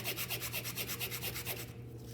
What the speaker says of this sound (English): And we're sanding